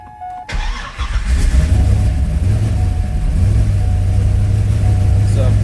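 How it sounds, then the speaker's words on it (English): A Corvette C5 Z06 with a 445ci LS7 V8 cranks briefly, then catches and settles into a loud, steady, lumpy idle with a slight throttle rise. The engine is close and carries on without pause. "after it's been running, it fires right up"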